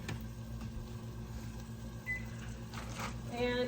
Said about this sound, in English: put our rice in the microwave